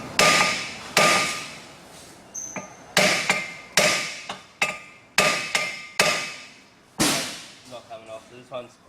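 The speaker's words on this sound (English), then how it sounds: "Another trick is to hit the rotor in this area" A hammer strikes a stuck brake rotor in a series of sharp, loud metallic blows, roughly one per second with ringing decay, several coming in quick succession near the end.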